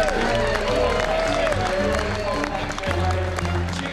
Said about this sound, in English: When the covers come off and you see the wows and the ohs of the crowd